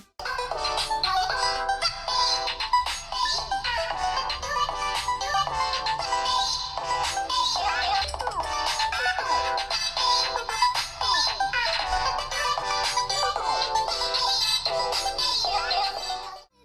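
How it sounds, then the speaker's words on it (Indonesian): Ringtone melody from the built-in speaker of an NLG G1 Pro budget Android phone plays steadily and fairly loud for the whole stretch, bright and busy with no talking over it. "untuk suara speaker di handphone ini lumayan"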